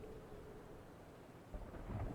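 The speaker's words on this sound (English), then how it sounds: "You can kind of hear thunder in this." Calm thunderstorm ambience from Paradise Killer, with a steady wash of rain and a low distant thunder rumble swelling toward the end, soft and continuous.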